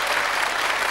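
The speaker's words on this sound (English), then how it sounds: "I'd like the audience to applaud" A television studio audience applauds, with a brief, dense burst of clapping that holds steady and loud for about a second.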